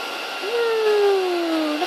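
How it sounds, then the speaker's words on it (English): Heat gun melting embossing powder, a steady airy blowing hum with a faint whine that shifts in pitch partway through, close and continuous for the whole two seconds. "Okay, got my heat gun."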